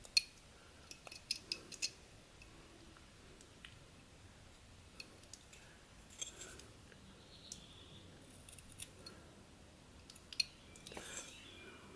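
Quiet knife cuts and small stop cuts on a basswood whittling of Sherlock Holmes, heard as scattered soft scraping ticks at close range, with faint low murmuring in places.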